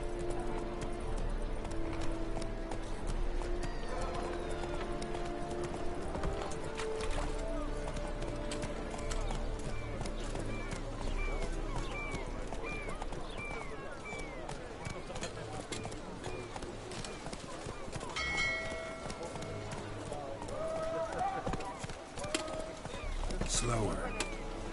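A horse gallops in a PS4 video game with rapid rhythmic hoofbeats, brief whinnies and game music layered over it, running continuously at moderate level while a voice talks over the action.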